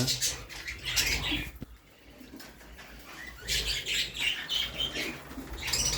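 Month-old jumbo budgerigars chirp and tweet in bursts in a pet shop, with occasional wing flutters and background noise, no talking.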